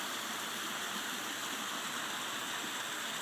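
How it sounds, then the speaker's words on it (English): A pool waterfall pours about 40 gallons per minute over East Tennessee Mountain Stone into a polished Hydrazzo plaster pool, making a steady, broad rushing splash at constant level with no voices. "You're looking at about 40 gallons per minute coming down the waterfall, East Tennessee Mountain Stone."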